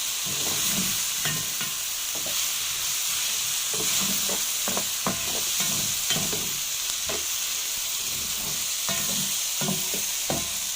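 Onion, peppers and sausage sautéing in a pan, a constant loud sizzle broken by repeated scraping stirs at an uneven rhythm, close by, with no talking.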